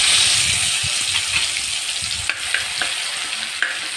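Green chilli masala hits hot oil left from frying bombil (Bombay duck), bursting into a loud sizzle that settles into steady frying with a few sharp stirring clicks, close up, no talking.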